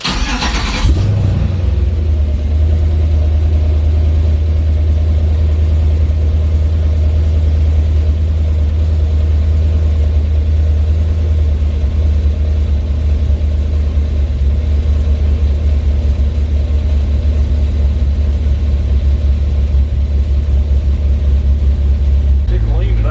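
An LS V8 car engine fitted with an AFR gauge cranks and fires up, then settles into a loud, steady, deep idle that runs on evenly, close by.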